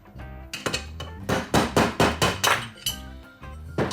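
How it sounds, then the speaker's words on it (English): A bearing being punched out of a Porsche 914 suspension part, a rapid series of loud, close metallic hammer strikes with ringing clinks, then a short pause before one more blow. "I'm going to try to punch this bearing out from behind because I want to powder coat this"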